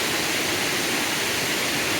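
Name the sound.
waterfall in Sri Lankan highlands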